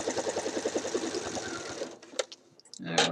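A sewing machine runs in a steady, fast rhythmic chatter, stitching around the outside of the interfacing on a Simplicity 8014 shirt dress collar band, then stops and leaves a few quieter clicks and handling sounds.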